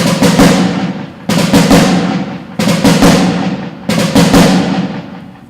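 Four loud, evenly spaced snare strokes, each a quick cluster of hits with a grace-note flam ringing out before the next, played alone and close.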